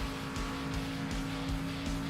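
Race car engine in a sim racing game at Kansas Speedway, a steady loud drone with repeated revving whooshes as cars pass, tire noise underneath, no talk.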